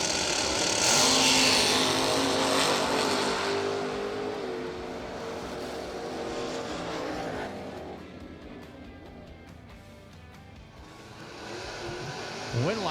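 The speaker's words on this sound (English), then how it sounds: "making the run here in the Camaro" Jimmy Bradshaw Jr.'s Camaro drag car makes its run at a drag racing event. A loud engine roar builds and fades into the distance, and an announcer talks over the crowd noise.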